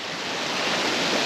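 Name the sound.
ocean waves near a trail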